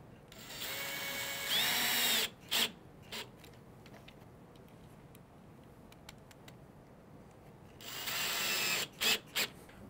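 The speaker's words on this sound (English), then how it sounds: "You can then drive the screw all the way in." A screw is driven in with a drill while installing a Trektop Glide, giving two bursts of whirring and ratcheting separated by quiet clicks and light handling noises.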